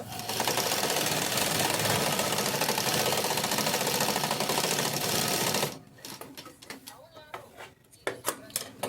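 Sewing machine stitching the side seams of Patiala pants, a loud continuous mechanical whirr for most of the clip that stops abruptly, followed by quieter clicks and handling sounds of fabric being pulled.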